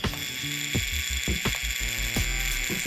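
A previous-generation tattoo cartridge on a running machine buzzes steadily, with a loose mechanical rattle and regular ratcheting clicks repeating close by.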